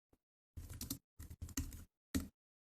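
Someone types on a computer keyboard in a quiet room, with several short bursts of quick clicking keystrokes separated by brief pauses.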